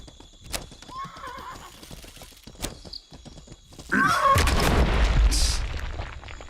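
Video game horse in a jungle setting: hooves clop and a neigh cuts in, then a sudden loud rush like a boom or impact swells and lingers before fading slightly.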